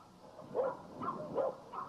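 Dogs at a farm in Pennsylvania bark in a few spaced, muffled bursts, moderately distant and fairly soft, with no talk over them.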